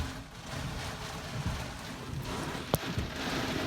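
Heavy rain pours steadily with gusting wind in the Nevada desert storm, a dense constant roar marked by one sharp knock near the end, with no talking.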